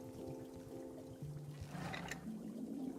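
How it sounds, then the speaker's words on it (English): Faint pouring and trickling of tea in the video game Wanderstop, a soft liquid splash lasting a couple of seconds over quiet game music. "so we're gonna pour this tea out."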